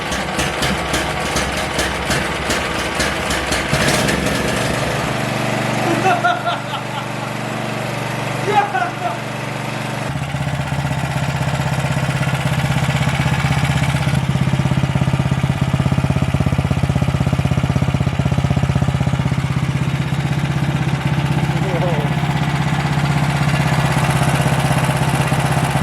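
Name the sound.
small engine running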